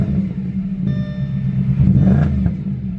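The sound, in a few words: Audi S4 Quattro engine running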